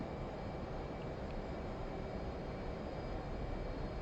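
Loud, steady roar of twin F/A-18C Hornet jet engines held at full military power in DCS World, a continuous broadband rumble with no breaks and no voices.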